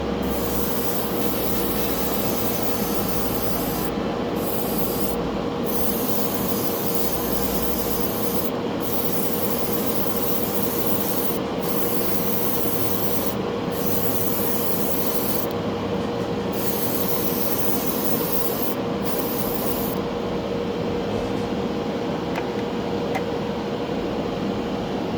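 Airbrush hissing a steady, close spray of clear gloss coat onto a model, continuous with short breaks where the trigger releases, and quieter stretches toward the end.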